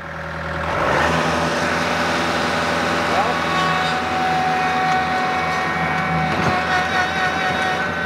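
A wheel loader's diesel engine works hard in low gear while pushing into a pile, a steady loud drone with a constant whine, and someone talks over it.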